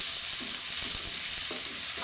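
Tomatoes frying in a pan with onions for a duck curry, a steady close sizzle with a few soft stirring scrapes, no voices.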